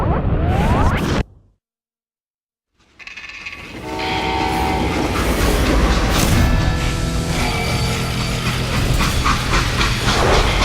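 Freight train in the Call of Juarez: Gunslinger video game, a loud continuous rumble and clatter of rolling cars with metallic squeals, broken by a brief drop to silence before the din resumes and holds steady.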